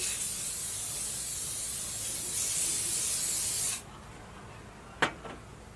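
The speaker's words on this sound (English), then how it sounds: "A little bit of spray oil just to coat the bottom." A steady aerosol cooking oil spray hisses for several seconds coating the bottom of a pot on a stovetop, then cuts off, followed by a single sharp metallic tap.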